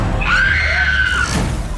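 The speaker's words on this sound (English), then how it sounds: "Listen in horror at the heartbreaking screams from the maze." Contestants inside a horror maze on a Panama summer-academy trip let out a loud, sustained shrill scream lasting about a second, then it fades.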